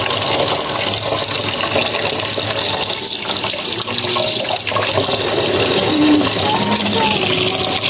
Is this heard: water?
yes